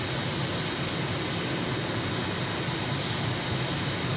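A steady, loud aircraft engine drone in a flight simulator game, holding a constant roar throughout with no talk over it.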